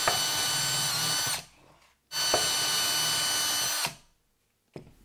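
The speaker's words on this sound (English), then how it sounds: "And now it's time to start drilling the holes." A power drill whirs loudly, drilling holes in a bucket, in two sustained bursts of about one and a half seconds each, separated by short pauses, with a brief start of a third at the end.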